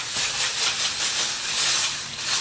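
A hand-pumped garden pressure sprayer being pumped up, giving a steady, close, airy hiss that swells and fades in a regular rhythm with each stroke, with no talking.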